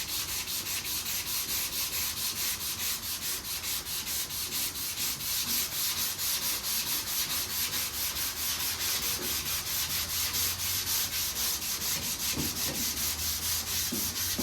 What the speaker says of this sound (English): That tells me I need to keep going with the 320.